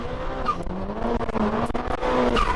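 A race car launches at a hill climb with a loud engine roar, its pitch climbing as it accelerates, with a brief tire squeal mixed in.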